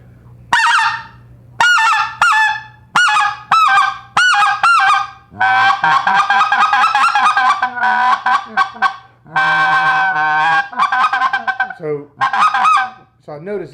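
A freshly re-tuned goose call with its reed adjusted blows a series of loud, close honks: short clucks at first, then longer drawn-out calls and rapid runs of honks, with no talking.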